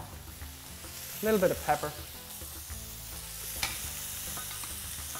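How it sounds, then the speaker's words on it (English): Asparagus sizzling in butter in a pan, a steady frying hiss with a brief louder burst of stirring partway through while a voice speaks over it. "Just basically want to glaze these asparagus, give them a little nice shine on them with the butter"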